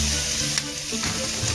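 Meat and peppers sizzle steadily in a hot pan, a close, continuous hiss of frying with a brief stirring clink, no talk.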